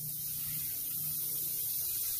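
White vinegar fizzes as it reacts with baking soda, giving a faint, steady hiss that lasts the whole short moment, with no voices over it.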